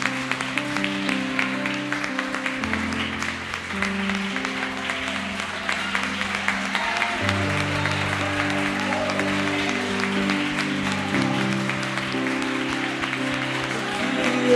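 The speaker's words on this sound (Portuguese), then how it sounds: "Vamos aplaudir a Jesus bem lindo," A church congregation applauds over sustained organ or keyboard chords, the clapping a continuous crackle under the loud, steady music throughout.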